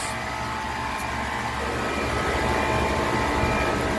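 An HVAC condenser fan motor running after a capacitor check, a steady, loud whirring drone with a low rumble, continuous and even throughout, with no talk.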